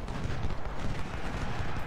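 Massed musket fire in a Civil War video game battle, a dense, continuous crackle of distant shots at low volume, heard alone.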